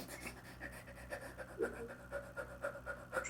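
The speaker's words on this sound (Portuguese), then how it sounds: "Respira pela boca e solta pela boca, bem rapidinho." Rapid yoga breath-of-fire breathing, in and out through the mouth, comes as a quick run of short, close, fairly soft puffs like panting, with no words spoken.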